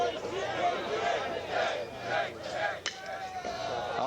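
An Ohio State crowd at a Big Ten baseball game against Minnesota responds with a steady, lively roar and babble, with a commentator talking over it throughout.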